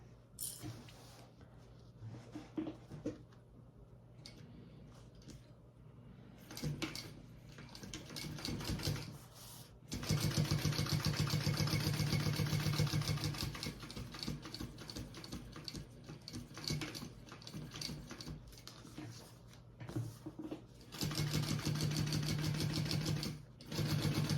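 A sewing machine stitches a small pocket onto a garment in several bursts of steady, close whirring, stopping and starting between runs, with no talk.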